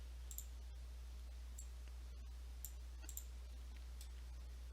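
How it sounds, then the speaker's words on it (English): Faint, sparse mouse clicks from someone working at a computer, single taps spaced irregularly over a steady low electrical hum. "clicking and holding down the W key."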